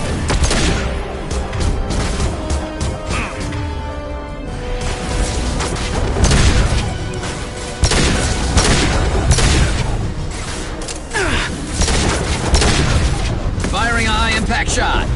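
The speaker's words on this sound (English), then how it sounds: "Firing a high-impact shot!" A high-impact shot fired in Mass Effect 2 amid a loud, dense battle, with repeated booming blasts and rapid gunfire, and a voice calling out over the combat.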